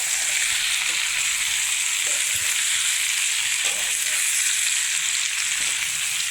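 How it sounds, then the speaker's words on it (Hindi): Okra and onions fry in a pan, a loud, continuous close hiss and sizzle of hot oil with faint spoon scrapes now and then. "ये देखिए अब बिल्कुल भिंडी फ्राई हो गई है।"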